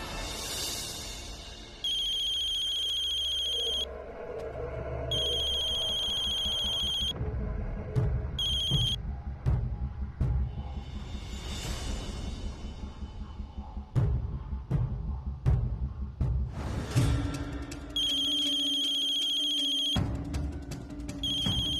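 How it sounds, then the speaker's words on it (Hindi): A phone rings in repeated electronic bursts with pauses between them, over steady background noise and some clattering. "फोन बज रहा है ना, उठाइए ना"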